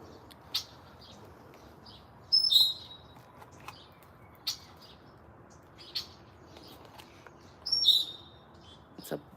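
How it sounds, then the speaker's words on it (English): A blackbird with a tan stripe on its wings calls outdoors, two clear, loud chirping bursts standing out over faint background bird chatter and scattered ticks. "it's a blackbird with a tan stripe on its wings."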